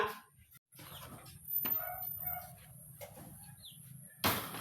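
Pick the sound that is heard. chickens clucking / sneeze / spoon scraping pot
chickens clucking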